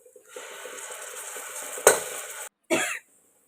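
A paste of ginger, garlic and shallots hits hot oil for mushroom biryani. A sharp, close sizzle rises, hisses steadily, then cuts off briefly before a second short burst of frying.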